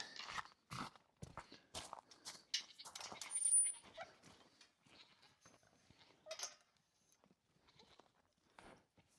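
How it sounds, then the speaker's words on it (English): Goats on a farm bleat in scattered short calls, fairly close, mixed with a dog's panting and barks and other farmyard noise. "Holly, let's go look at the goats."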